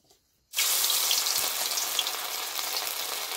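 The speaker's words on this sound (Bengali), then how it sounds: "তো এখন আমাদের চিকেন পকোড়া প্রায় ভাজা হয়ে গেছে" Marinated chicken pakora hits hot oil in a village kitchen, setting off a sudden loud, hissing sizzle that runs on steadily after a brief quiet start.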